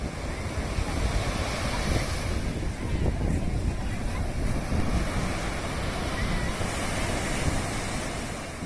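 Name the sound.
ocean waves on the beach at Puri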